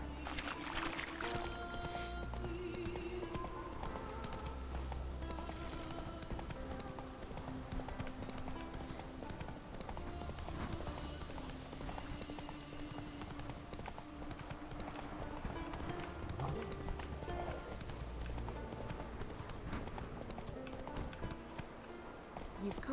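Roach, the horse in The Witcher 3, gallops in a steady, rhythmic clip-clop of hooves that runs throughout over a full wash of game ambience.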